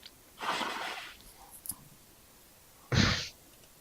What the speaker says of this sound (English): Now blow my nose.